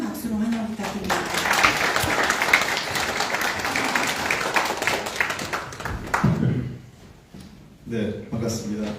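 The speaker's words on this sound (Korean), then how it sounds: "큰 박수로 환영 부탁드립니다." Audience applause at a Korean museum and art museum policy seminar welcomes a National Assembly committee chair to the podium; dense clapping fills most of the clip, fades out near the end, and a voice speaks briefly over the tail.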